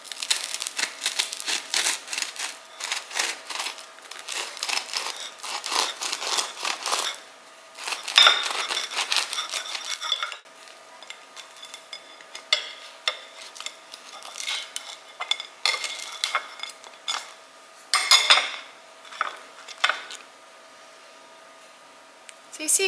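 A knife saws through a homemade cinnamon sugar sourdough bagel, giving close crinkly, scraping strokes in bursts with brief pauses, with faint handling noise between cuts.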